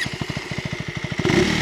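A KTM Adventure 390 motorcycle with a new 349 cc engine runs close by, a steady rapid low thumping idle that swells into a louder rev near the end, with no talking.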